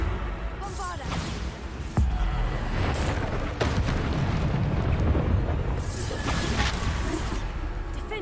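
Bombarda spell blasts in Hogwarts Legacy, several booming explosive bursts with whooshing magical swells and crashing debris during a loud fight against a troll, with a voice speaking in between.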